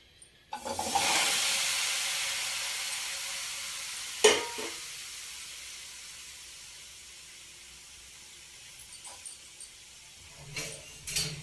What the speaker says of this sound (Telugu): ఇవి గిన్నె పెట్టుకొని పొయ్యి మీద ఉడికించుకోవాలి